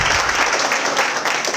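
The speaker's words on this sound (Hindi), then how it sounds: "आप अपने लिए ताली बजा सकते हैं बच्चों" Children at a Sudarshan guru honour ceremony clap for themselves, a dense, steady burst of applause filling the hall briefly with no voices over it.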